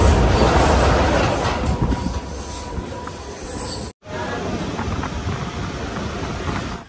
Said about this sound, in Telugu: మనమేమో ట్రైన్ అయితే ఇప్పుడే కృష్ణ కెనాల్ జంక్షన్లోకి ఎంటర్ అయిపోయాం